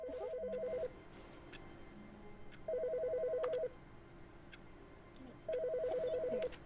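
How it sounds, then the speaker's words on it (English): A desk telephone rings in The Stanley Parable video game, three separate ring bursts spaced a couple of seconds apart over a steady low room hum. "I hear a phone."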